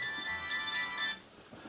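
A telephone ringtone trills loudly in a room, a steady electronic ring with bright harmonic tones that stops abruptly after about a second.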